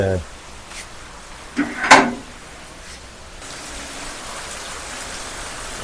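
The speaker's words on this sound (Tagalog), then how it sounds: "wow, it's raining" Rain falling at night makes a steady soft hiss that thickens partway through, with a few clatters and thumps nearby and a voice at the start.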